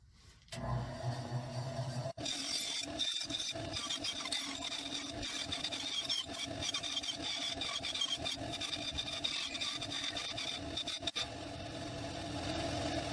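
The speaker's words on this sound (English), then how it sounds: "I'm going to take this and I'm going to cut it around all of the edges here" A G10 fibreglass slingshot blank being cut around its edges with a power tool: a continuous, harsh grinding and rasping drone that runs steadily for over ten seconds with brief dips, close and alone.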